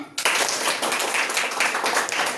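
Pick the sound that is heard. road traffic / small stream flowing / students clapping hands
students clapping hands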